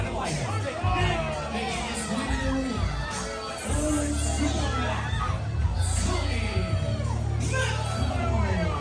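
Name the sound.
rowdy fans yelling at wrestling entrance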